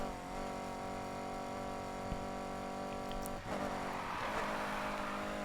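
Car drifting in the racing video game Need for Speed Heat: a steady, loud engine drone with harmonic tones runs throughout, a brief dip mid-way, then a rougher hiss of tyre noise as the car slides.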